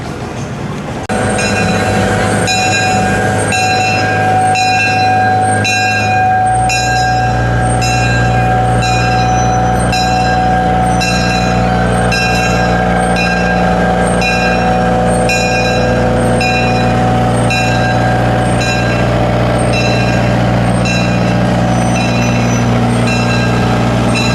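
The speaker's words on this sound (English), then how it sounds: "highlights from our ride on one of the 2 trains at Dorney Park" A small amusement park ride train, the Zephyr at Dorney Park, rolls along steadily with a constant low rumble, repeating rhythmic clacks and a faint high whine, loud and close throughout.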